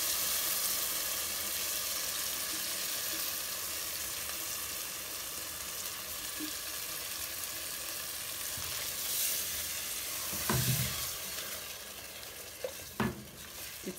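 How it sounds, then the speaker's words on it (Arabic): Spicy chili pasta sauce hits a hot pan with a steady, fairly faint sizzling hiss that settles down over time, punctuated near the end by a few clinks and scrapes of a utensil against the pan. "هننزل بقى كده بالصلصه بتاعتنا"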